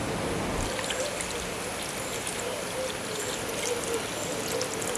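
Water poured into a pot of cocoyams (macabo) for a Cameroonian porridge, a steady splashing, trickling flow that runs continuously and fairly quietly, with no one speaking.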